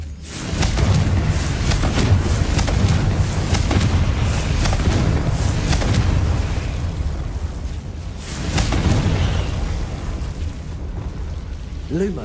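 Confringo fire-spell explosions in the video game Hogwarts Legacy during combat, a continuous barrage of loud rumbling booms and crackling blasts with a brief lull before another surge.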